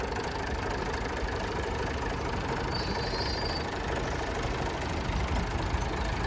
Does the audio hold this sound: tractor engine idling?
yes